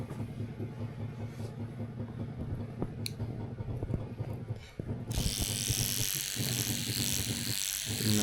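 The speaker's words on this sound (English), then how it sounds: "she's shaving the hairs around the ear" An electric trimmer buzzes close by as hairs around the ear are shaved during an ear cleaning at a Japanese shop, a steady mechanical whir that grows brighter and louder partway through, with no talking.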